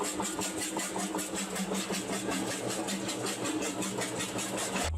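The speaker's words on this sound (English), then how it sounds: "now we're going to crush our sample through this little lab jaw crusher here." A small laboratory jaw crusher grinds an ore sample down to quarter-inch pieces, giving a steady, loud mechanical drone with rapid rattling and knocking that runs continuously throughout.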